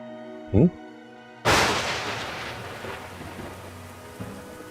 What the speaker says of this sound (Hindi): मोई बारिश कब रुकेगी।